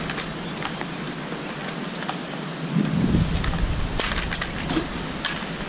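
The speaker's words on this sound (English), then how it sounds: "you can always flip it over and give it a good scrubbing." A window is scrubbed with the flipped side of a brown pad holder, giving a close, gritty scrubbing and crackling noise that grows louder midway, with no talking.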